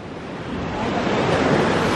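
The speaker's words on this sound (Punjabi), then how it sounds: "ਆਹ ਦੇਖੋ ਉਹ ਜਿਹੜਾ ਛੱਲਾਂ ਆ ਰਹੀਆਂ ਪਾਣੀ ਦੀਆਂ" Ocean waves roll onto the shore of a small island resort in the Maldives, a steady broad wash of surf with some wind noise, continuous and fairly loud.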